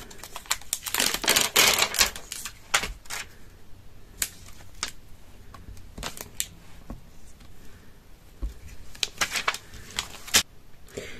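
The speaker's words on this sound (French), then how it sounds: "je suis venue tamponner mon nouvel alphabet en vert et rouge" Rubber alphabet stamps pressed onto paper for scrapbooking, giving a run of sharp, close taps and clicks, dense in the first few seconds and then spaced out with short pauses.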